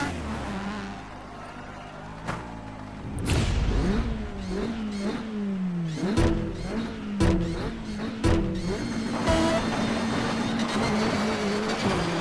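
Rally car in the Dirt 2 video game, engine revving hard and climbing through gears with sharp shifts and tire squeal, loud and close, with no talking.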